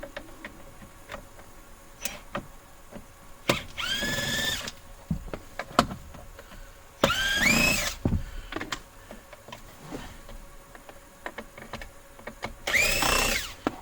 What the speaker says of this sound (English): And remove the Phillips screws from the steering column cover.